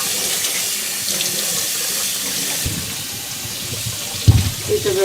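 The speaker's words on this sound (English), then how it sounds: "Just give the melon a good wash in cold water." Cold tap water runs steadily into a kitchen sink while a winter melon is washed under it, a continuous close splashing stream with a couple of louder knocks and splashes near the end.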